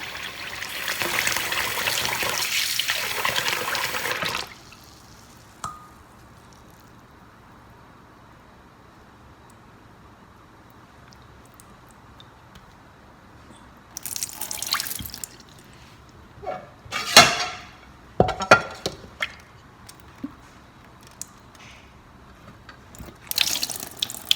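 Rava being rinsed under a kitchen sink tap: a loud stretch of running water for the first few seconds, then quieter dripping and several short splashy bursts of water as it is drained and rinsed again.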